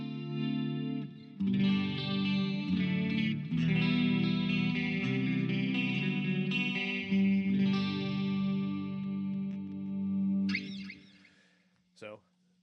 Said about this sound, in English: I'm using the twin combo, which sounds like this. I'll actually even play it for you.